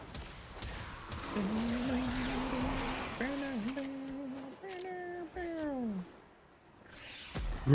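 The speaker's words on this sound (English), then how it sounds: "Roommate's cat." A domestic cat lets out several drawn-out meows, rising and falling in pitch, fairly faint over a soft background hum with no clear talk.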